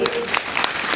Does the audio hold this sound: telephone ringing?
no